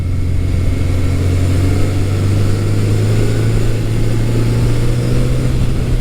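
A 1983 Suzuki GS1100E motorcycle on a test ride, its engine droning loud and steady with a slowly rising pitch as it pulls along, with constant wind rush underneath.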